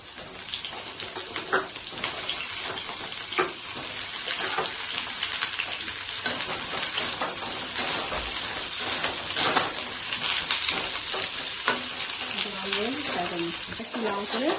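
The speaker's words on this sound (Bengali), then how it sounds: "এখন সে কড়াইতে পটল আর আলুগুলো ফ্রাই করে নিচ্ছি" Pointed gourd and potato pieces fry in oil in a wok, a steady close sizzle and crackle running throughout while a voice talks over it.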